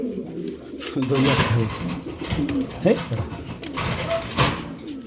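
Racing pigeons give soft, throaty coos and rustles close by, mixed with someone talking over them throughout.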